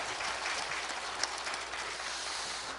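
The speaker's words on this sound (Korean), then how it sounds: "여러분 박수 한번" An audience applauds steadily at a panel discussion on improving apartment-complex management culture, a dense, even wash of clapping that holds for the whole stretch.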